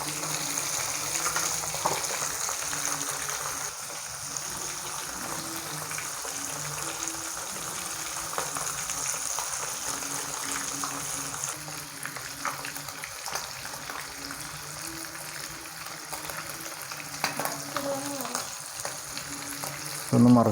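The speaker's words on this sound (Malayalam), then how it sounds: "നമ്മൾ ആദ്യം അയല മാത്രമാണ് ഇടുന്നത് കേട്ടോ" Mackerel fries in a pan for a home-style fish fry, giving a steady, close crackling sizzle that continues evenly for about twenty seconds with a small clatter at the end.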